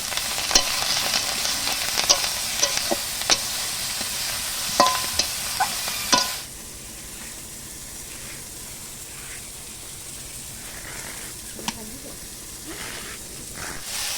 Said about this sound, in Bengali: পরিমাণ মতো হলুদও দিয়ে দিচ্ছি। এবার এটা একটু ভালো করে ভেজে নেব।